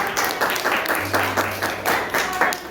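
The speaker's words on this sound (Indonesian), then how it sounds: "Beri tepuk tangan dulu untuk kelompok 4 yang telah menyaksikan." Classroom applause for a presenting student group, a dense, even rattle of many hands clapping close by, with a brief low hum running underneath.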